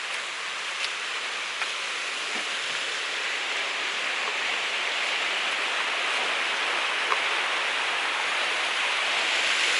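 A small waterfall spilling beneath a footbridge at Wayah Gap on the Appalachian Trail, a steady close rush of falling water that holds even and unbroken throughout with no voices.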